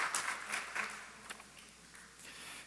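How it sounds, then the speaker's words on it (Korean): Church congregation clapping to welcome visitors during a Sunday service, a short burst of scattered applause in uneven waves, fairly faint, fading out after a couple of seconds. "우리 함께 박수로 맞이하도록 하겠습니다."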